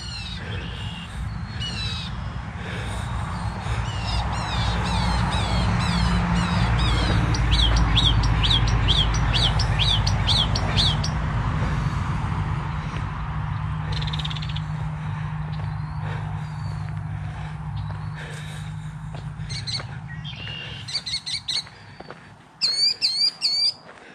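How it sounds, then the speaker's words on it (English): Birds calling in dense Florida Panhandle woods, rapid chirps and crow-like caws repeating over a steady low rumble, with a burst of sharp calls near the end. "The birds seem happy here."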